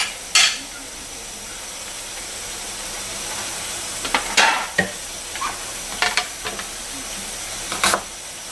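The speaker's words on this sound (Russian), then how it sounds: "Сейчас этот лучок отдельно обжарим" Onion sautéing in a pan for chicken rolls with mushrooms and cheese: a low steady sizzle with scattered scraping stirs, sharper clatters near the start and end, heard alone without talk.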